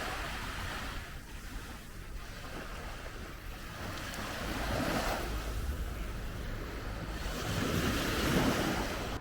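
Waves wash onto the beach beside the Malaga boardwalk in a broad continuous roar that swells and recedes, mixed with wind buffeting the microphone and no voices.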